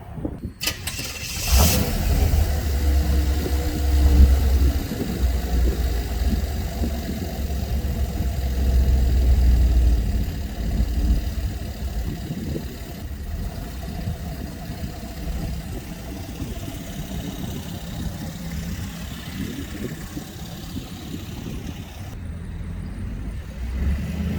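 A 1989 Pontiac Trans Am GTA engine cranks and fires up, then settles into a steady, rumbling idle that runs on loud and close for the rest of the stretch, with no talking over it.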